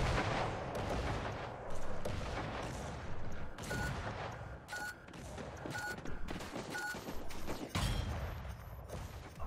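Rapid bursts of explosions and gunfire in the online battle game Creative Destruction, with booming blasts and crackling shots stacked densely over nearly ten seconds, loud and close with occasional short electronic tones.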